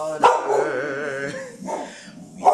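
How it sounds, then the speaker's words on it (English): A dog just woken from sleep barks and yips close by, a whimpering, drawn-out bark followed by a couple of shorter yelps, with a faint voice underneath. "The dog fell asleep and just woke up, so we'll take a breath with her to calm down"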